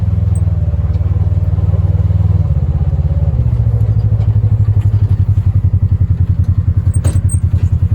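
A Polaris RZR XP 1000 with cowl induction, tested in 85-degree warm weather after nearly an hour of running, rumbles at a steady, loud, close idle with a deep pulsing throb and no talking.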